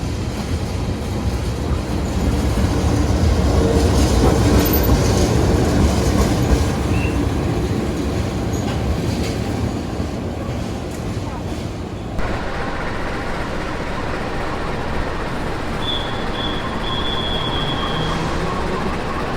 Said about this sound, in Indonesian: Dalam satu rangkaian kereta Wijaya Kusuma terdiri dari 4 kereta kelas eksekutif, 1 kereta pembangkit yang berfungsi juga sebagai restorasi